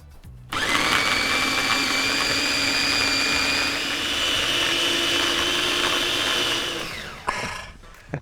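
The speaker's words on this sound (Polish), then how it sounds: "uwielbiam otwierać mikser po zmieleniu takiej dzikiej ilości ziół" A kitchen blender grinding herb pesto of dill, parsley, nuts, parmesan and lemon juice, a loud, steady high-pitched whir running for about six seconds before winding down to a stop.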